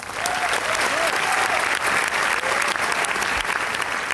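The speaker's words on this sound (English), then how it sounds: "Maybe I'll drop in a little applause just here." A burst of crowd applause used as a sound effect, dense steady clapping that stays loud and even throughout with a faint voice underneath.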